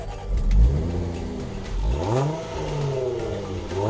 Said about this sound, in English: The 3-liter supercharged V6 I'm driving offers up